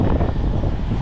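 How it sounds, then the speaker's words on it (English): Strong gusting wind buffets the microphone at a truck stop, a loud continuous low roar with no talk. "it's very windy out here,"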